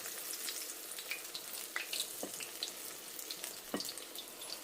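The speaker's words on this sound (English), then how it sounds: "we're going to cook them till they're golden brown on both sides, probably about 3 minutes each" Onion fritters fry in about an inch of extra virgin olive oil with a steady, close sizzle and scattered sharp pops and crackles throughout, no voices.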